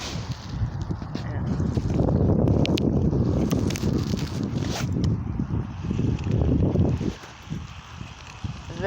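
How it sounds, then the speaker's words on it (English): Strong wind buffets the microphone outdoors on a windy fishing trip, a loud continuous low roar with gusts throughout and a dip near the end. "It's very windy out here."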